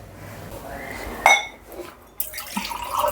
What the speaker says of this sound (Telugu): ఇప్పుడు నీళ్ళు పోసేసుకుందాం